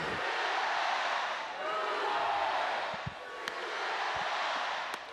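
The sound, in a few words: softball stadium crowd cheering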